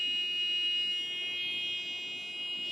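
A GSM-based fire alarm system using an ATmega32 sounds its buzzer, a steady shrill electronic tone held without a break, close and fairly loud over faint background noise.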